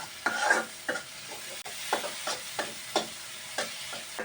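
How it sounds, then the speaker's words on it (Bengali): Spiced filling for chapar puli, cooked in a small amount of oil, is stirred and scraped in a pan with a soft sizzle underneath; about eight or nine distinct scraping strokes land at a steady rhythm, close and fairly quiet. "আর একটু ভাজা ভাজা করব"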